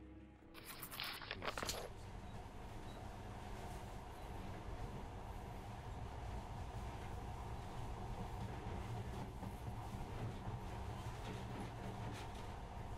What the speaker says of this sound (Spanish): Pero ahora este monorraíl parece hasta mágico, ¿eh?